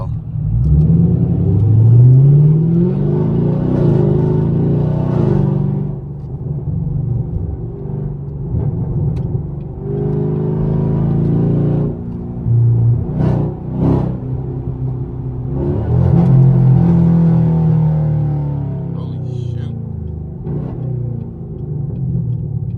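A catless Chevrolet Camaro SS rumbles loudly up close, its exhaust revving and pulling hard in repeated surges of acceleration, with steady engine drone between the bursts.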